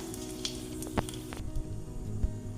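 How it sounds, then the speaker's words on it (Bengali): Dry red chillies and panch phoron spices sizzle in hot oil, a steady close crackling hiss with a few sharper pops and faint stirring clinks, no voices. "ফোড়ন লাগছে 5 ফোড়ন, সাথে শুকনো লঙ্কা দিয়ে দিলাম।"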